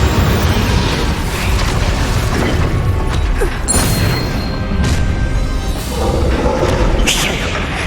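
Incendio fire spell cast in Hogwarts Legacy, heard as loud, dense booming bursts and rushing, crackling blasts that run steadily throughout with no talking.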